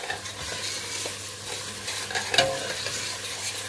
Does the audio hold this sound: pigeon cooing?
no